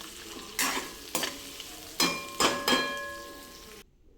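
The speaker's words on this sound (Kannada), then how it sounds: "ಈರುಳ್ಳಿನೂ ಚೆನ್ನಾಗಿ ಫ್ರೈ ಮಾಡ್ಕೊಳ್ಳಿ." Onions frying in a pan for coconut rice, stirred with a utensil: several loud scraping stir strokes at uneven intervals over a steady soft sizzle, with faint metallic ringing after some strokes, ending abruptly.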